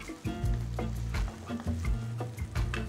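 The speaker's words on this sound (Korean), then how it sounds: "살짝 소스가 야채에 스며들 수 있게 잠깐만 더 볶아서 한 1분 정도 볶아주시면 될 것 같습니다" Sauce and vegetables stir-fried in a pan for spicy marinated chicken over rice, with a close, continuous sizzle broken by repeated scraping strokes of the stirring utensil.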